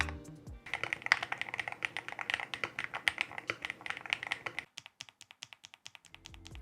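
Typing on a Hex80 magnetic Hall effect keyboard by ATK x QK, CNC aluminum gasket-mount build: rapid clacky keystrokes in a dense close burst, then slower scattered taps, with no voices.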